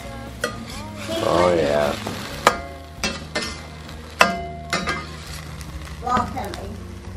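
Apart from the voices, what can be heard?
French toast frying and being flipped in a pan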